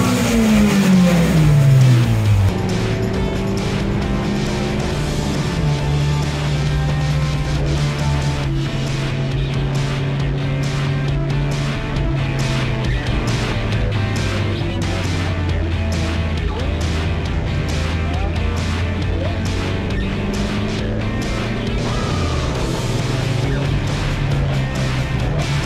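Toyota Yaris track car with a cold air intake and a higher rev-limit tune, lapping the resurfaced Streets of Willow circuit during a TRD series race. Its engine revs loud and close, rising and falling steadily through gear changes.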